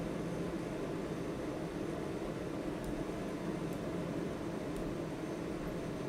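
A TBM 930 turboprop cruising in Microsoft Flight Simulator gives a steady, dense engine drone with broadband hiss that holds constant throughout, with no talk over it.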